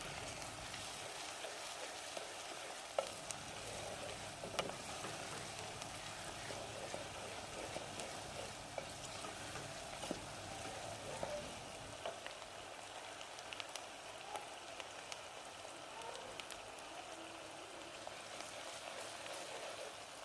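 Onions frying in a pan for a beef qeema filled karela dish, a steady dense crackle and sizzle with scattered tiny pops, fairly quiet and continuous throughout with no voices.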